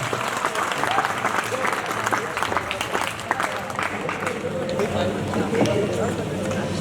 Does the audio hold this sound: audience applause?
yes